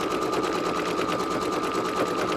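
A Brother Innov'is 1600E embroidery machine stitches an appliqué outline with a fast, even, continuous whir, loud and close throughout.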